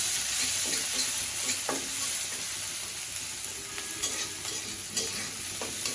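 Garlic, onion and green chili frying in oil, a steady soft sizzle with occasional stirring scrapes and pops, close and alone without talk.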